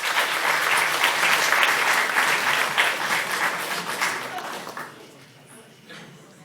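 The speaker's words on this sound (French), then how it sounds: "On peut l'applaudir." An audience at a conference on the connected world applauds warmly, a dense, sustained wash of many hands clapping that holds steady for several seconds before thinning out and fading away.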